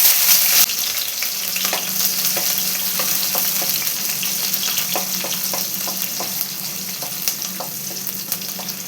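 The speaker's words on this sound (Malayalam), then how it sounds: "ഇതിലോട്ട് 12ഓളം വെളുത്തുള്ളി കട്ട് ചെയ്ത് വെച്ചതും 2 പച്ചമുളക് കട്ട് ചെയ്ത് വെച്ചതും കൂടി ചേർത്ത് കൊടുക്കാം" Chopped garlic, about twelve cloves, and two green chillies fry in sunflower oil in a steady close sizzle, punctuated by repeated sharp clicks of a spoon stirring the pan.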